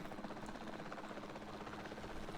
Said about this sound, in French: Et on pilote l'hélico comme dans le premier.